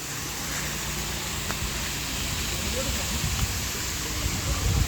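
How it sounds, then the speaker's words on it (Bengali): Waterfall water flows in a constant broad wash at a travel spot, with faint voices of visitors and occasional rustles layered over the steady rush. "এই যে ঝর্ণার পানি খুব সুন্দর"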